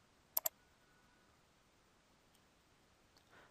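Computer mouse double-clicked as a left button is pressed twice in quick succession, two sharp close clicks near the start, then a few faint ticks and a soft rustle in a quiet room.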